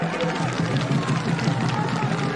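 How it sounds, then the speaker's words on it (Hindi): A crowd at a political rally in Bengal claps and cheers in a dense, continuous wash of sound, with a voice speaking loudly over it throughout. "आपकी तालियां बताती हैं कि आपको मालूम है"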